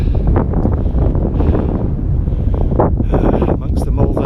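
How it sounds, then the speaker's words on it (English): Wind gusts buffet a microphone on Black Hill in the Malvern Hills, making loud, close, low-pitched rumbles and thumps that surge unevenly, with a voice partly audible underneath. "It's probably going to be too windy here"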